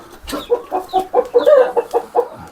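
Chickens cluck in a quick series of short, throaty calls close by, about a dozen pulses in a loose rhythm, with no talking over them.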